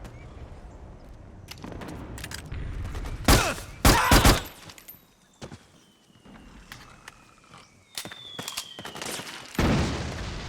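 Metal Gear Solid 4 gunfire comes in loud sharp bursts and single cracks, separated by quieter gaps and a rising whine, with no voices.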